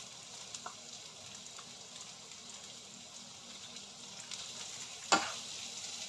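Onions fry in a pan with a quiet, steady sizzle, and dry prawns drop in with a brief crackling burst near the end, with a few light clicks before it.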